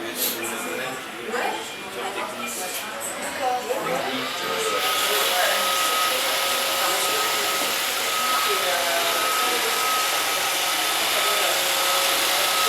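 An iRobot Roomba 560 robot vacuum cleaner starts up after a few seconds of quieter handling noise, then runs with a steady, loud motor whir and brush hiss that holds unbroken to the end.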